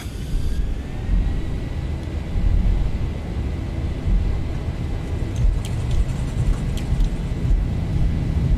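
Boeing 737 jet engines with the Zibo mod spool up to takeoff thrust in a flight simulator, a loud continuous roar and rumble with a faint rising whine, steady across the whole stretch with no talk.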